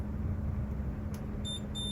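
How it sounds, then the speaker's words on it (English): A multimeter gives a high continuity beep while probing corroded traces on a Pokémon Ruby game cartridge. Two short electronic tones come near the end over a steady low hum, with no speech. "if I put my leads, I should just hear a beep beep beep"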